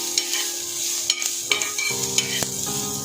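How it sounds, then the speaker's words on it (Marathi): Onion, garlic and ginger sauté in a pan for a Malvani-style white pea curry, a soft continuous sizzle broken by several sharp spatula scrapes and taps, close and alone without speech. "त्याच्यामध्ये आता आपण लसूण आणि आलं टाकून घेऊया ते सुद्धा चांगलं परतून घ्यायचं"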